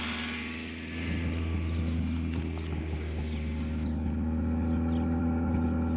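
A car engine treated with Sea Foam idles with a deep, steady rumble that rises slightly as it's revved, running continuously nearby.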